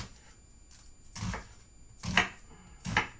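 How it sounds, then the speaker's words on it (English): A knife chops an onion on a cutting board, with three or four distinct quiet thuds spaced out unevenly in a calm kitchen. "So when I cut my onion, I go this way. I want to cut it kind of small."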